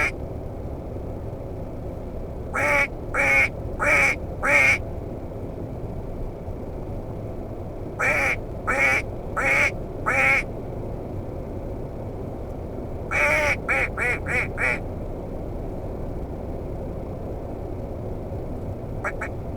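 Three bursts of rapid nasal mallard duck quacks made by a human mouth caller imitating the bird, each burst of four or five quacks, fairly close and loud over a low background hum.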